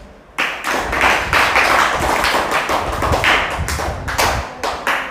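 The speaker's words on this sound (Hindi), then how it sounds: "ताली बजाओ" Children in a classroom clap together on cue, a loud, close burst of rhythmic clapping that starts abruptly and continues steadily, with slightly uneven hand strikes throughout.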